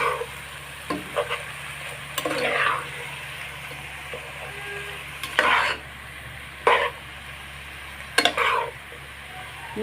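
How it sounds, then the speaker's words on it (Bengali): Fried taki fish stirred into bottle gourd in a frying pan: a quiet sizzle runs throughout, broken by several short scraping, clattering strokes of a spatula at irregular intervals, with no talk. "টাকি মাছ ভাজাগুলো দিয়ে আমি ভালোভাবে মিশিয়ে নিব"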